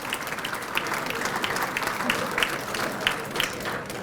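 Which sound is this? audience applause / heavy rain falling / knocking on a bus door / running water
audience applause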